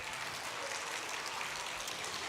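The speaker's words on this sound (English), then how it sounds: "And give her a round of applause" Audience at a family show clapping in a quiet, steady patter, faint and distant, a brief even wash of applause without voices.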